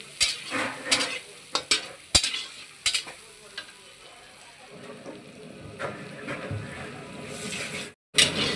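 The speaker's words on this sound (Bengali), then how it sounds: "আপনারাও পেঁয়াজটা ভালো করে লাল করে নেবেন" Onions fry in a pan until browned, with loud scraping stirs and utensil knocks over a softer sizzle, then a brief silent gap before the stirring resumes.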